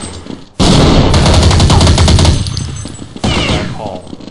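Loud, dense bursts of automatic rifle fire from the video game Counter-Strike, a rapid rattling volley followed by a shorter second burst, all heard close with no talking.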